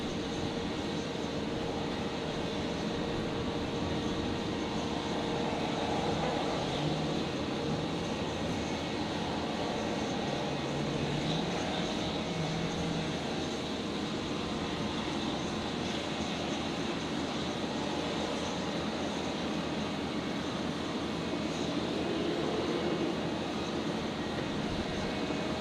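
Jetstar flight 833 airliner arriving at Brisbane airport from Proserpine, a steady broad engine roar that holds at an even level throughout with no voices.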